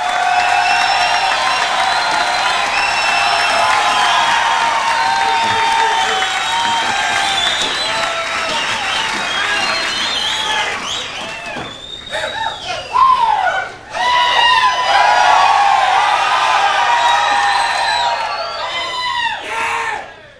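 A large crowd at a Jack Hyles event cheers, whoops and applauds loudly and continuously, with a brief dip partway through before the roar swells again. Voices rise out of the crowd noise.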